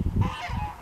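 A goose on a farm gives a short burst of honking, close and moderately loud, one or two quick nasal calls with no other voices.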